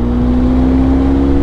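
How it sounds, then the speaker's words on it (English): A 2021 Benelli 502c motorcycle on its stock exhaust with the catalytic box fitted, revving loud and close with a steady droning engine tone, alone with no voices. "Tell me what you think of that exhaust."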